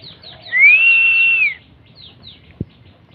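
A large pet bird gives a loud, close whistled call that rises and holds for about a second amid short chirpy notes, followed by a soft thump.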